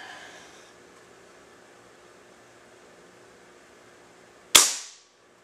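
A PCP airgun fires through a chronograph: after a long hush with faint background hiss, one sharp, loud crack lands near the end and quickly decays.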